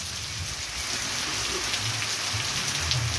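Steady rain falls in Amaniutuba, Ceará, after a dry spell of a month and a half, a continuous dense hiss of drops on surfaces with faint low rumbles underneath and no voices.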